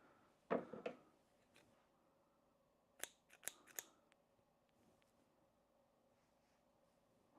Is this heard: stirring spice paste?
no